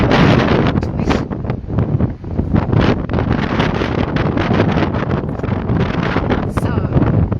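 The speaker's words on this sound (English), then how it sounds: "Sitting in the wind with me." Wind buffets an outdoor microphone in loud, uneven rumbling gusts that fill the whole stretch, with no clear talk over the roar.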